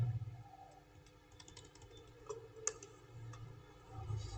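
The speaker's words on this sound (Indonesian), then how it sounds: "kita ketik kontrol" Computer keyboard typing during AutoCAD work, a few faint, sparse key clicks at close range over a low background hum.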